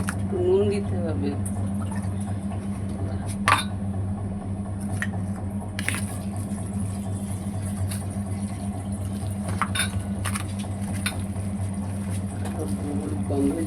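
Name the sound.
mixing food by hand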